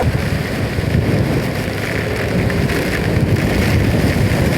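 Steady, loud rain pours continuously with a rushing wind mixed in before dawn, a dense unbroken wash of noise with no voices.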